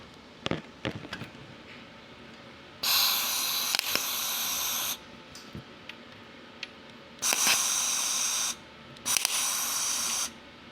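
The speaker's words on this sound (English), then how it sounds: "Because we're just trying to put a tack weld" Electric arc welding tacks together the frame of an electric go-kart: three separate bursts of loud, harsh crackling hiss, each lasting one to two seconds, with quiet workshop clatter between them.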